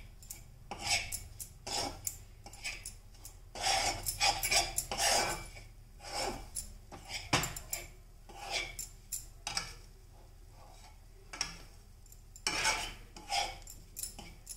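A spoon scrapes and stirs browning Mysore pak mixture in a pan, with irregular metallic scraping and clinking strokes that come in bursts, close and clear, with no talk.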